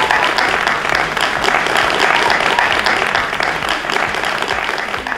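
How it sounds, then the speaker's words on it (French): Loud, dense audience applause fills a French TV show studio, steady and continuous from start to finish, with no talking over it. "on applaudit très très fort."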